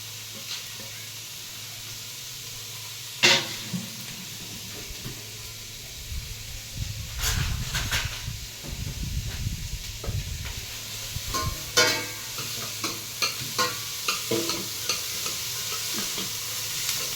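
Carrots, cabbage and beans stir-fry in a pan, a soft sizzle running underneath while scattered scraping stirs and clatters come close and fairly quiet, growing busier toward the end.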